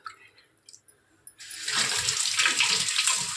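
A few small clinks and splashes, then a steady rush of running water pouring close by as rice semolina is rinsed.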